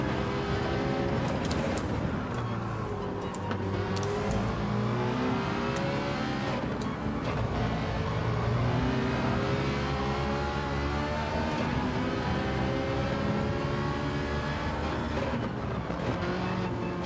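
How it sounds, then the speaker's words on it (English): A Ferrari race car in Gran Turismo 7 accelerates hard, its engine note climbing through the gears in a loud, continuous roar with rising and falling pitch sweeps and no talk. "Ferrari's pretty good on the old acceleration, isn't it?"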